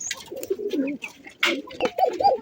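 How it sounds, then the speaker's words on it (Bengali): Male pigeons cooing close by, a few soft throaty rolling coos in short repeated bursts with brief gaps, alone without talk. "আর এই ছোট রাজার ডাকটা কিন্তু অসম্ভব সুন্দর ডাক"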